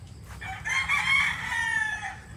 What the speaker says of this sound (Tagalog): Nag-ayos ng mga sisiw para sa biyahe natin ngayon mga boss.